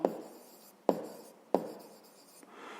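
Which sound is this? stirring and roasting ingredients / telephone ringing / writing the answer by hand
writing the answer by hand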